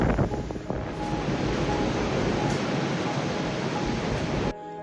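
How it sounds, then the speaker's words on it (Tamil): Storm-driven sea waves crash and roar continuously along the Hong Kong coast, a loud dense wash of surf mixed with heavy wind buffeting the microphone, with no pauses until it cuts off near the end. "ஹாங்காங் கடல் பகுதியில் அலைகள் சீற்றத்துடன் எழும்பி வந்தன"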